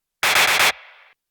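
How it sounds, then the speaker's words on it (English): A loud chopped burst of static noise pulses four times, then drops to a thinner, filtered hiss that fades out quickly. "the third layer is another static noise chop that I EQ'd differently"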